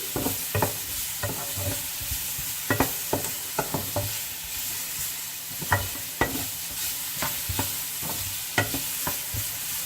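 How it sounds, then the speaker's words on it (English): Vegetables sauté in a pan with a continuous hiss of sizzling oil and intermittent spatula scrapes and taps, close and fairly steady, with no voices. "I'm just sauteing the vegetables for 2-3 minutes in the pan."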